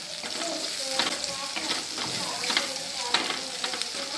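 Green chillies with salt frying in a pan, a dense steady sizzle with stirring scrapes and light crackles, close and continuous with no talk.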